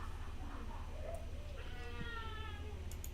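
A pet cat meows somewhere in a room during a tabletop roleplaying game session, its harmonic calls faint and partly under steady background hum and low talk.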